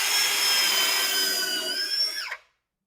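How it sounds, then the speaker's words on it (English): A drill fitted with a pocket hole bit bores into wood for DIY garage cabinets, a loud steady high whine running nearly three seconds, then winding down sharply as it stops, with no talk. "I just keep a tape stop on my pocket hole drill bit, and it's super quick."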